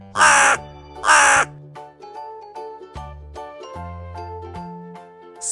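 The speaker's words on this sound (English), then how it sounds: "Crow." Two loud, harsh caws from a crow in quick succession, each about half a second long, followed by soft tinkling background music.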